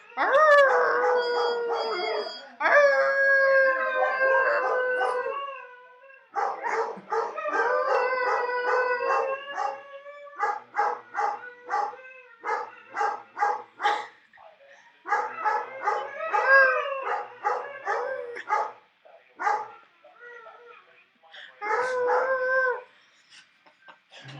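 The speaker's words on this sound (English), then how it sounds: "When the phone rings, the dogs howl." Dogs howl in response to a ringing phone in long, wavering bursts, with a few short yips mixed in, the howling rising and falling in separate waves with brief gaps between them.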